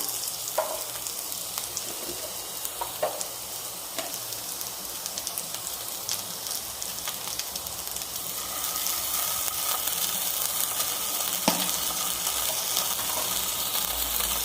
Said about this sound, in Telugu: ఇవి కూడా లైట్గా స్మెల్ వచ్చేంత వరకు వేయించుకుందాం